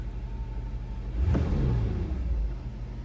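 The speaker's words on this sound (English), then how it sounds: "And it's running. The idle's good." A Mercedes R129 engine running during a California emission test, a close steady idle rumble that swells briefly in the middle with a blip of revs before settling back to an even idle.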